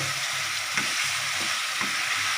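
A spice mix frying in a pan for a Bengali pea-fritter curry, a continuous close sizzle with regular stirring scrapes roughly every half second, no talking.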